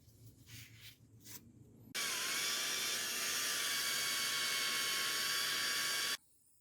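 An old Bauer tilt steering wheel from a 1919 Ford Model T is cleaned with a loud, steady whirring grind that holds for about four seconds after some quieter handling noises, then stops abruptly.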